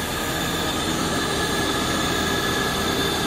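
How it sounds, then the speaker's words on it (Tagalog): A 2000 Honda Civic hatchback with a D16Y7 engine running, a loud steady droning whir with no breaks. "D16 Y7 engine."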